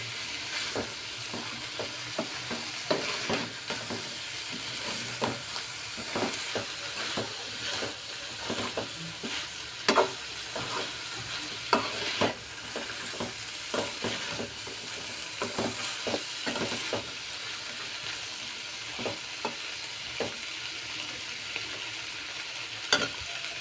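A sweet corn mixture is stirred in a frying pan, with repeated scraping strokes of a spoon over a soft, steady sizzle, close and moderately quiet.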